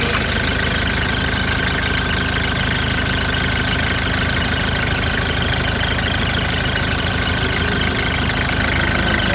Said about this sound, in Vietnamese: Đây em nổ máy thử các bác.